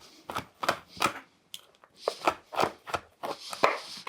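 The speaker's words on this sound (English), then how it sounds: "just going to chop them roughly." A knife roughly chops Cadbury Creme Eggs on a board, about a dozen close, crisp thunks in an uneven rhythm with brief pauses.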